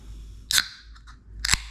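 A can of Coke Zero Sugar cracking open, with two sharp clicks and hisses about a second apart and a faint rustle between them, close up and loud against a quiet room.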